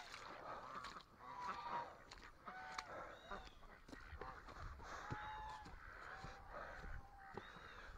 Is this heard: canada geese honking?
yes